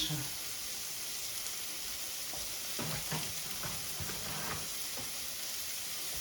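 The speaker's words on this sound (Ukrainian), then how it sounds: "Беру ложку борошна і трошки припорошую цей і жарю далі." Steady frying sizzle and hiss from onions dusted with flour in a pan for French onion soup, with a few soft scraping stirs partway through; no talking.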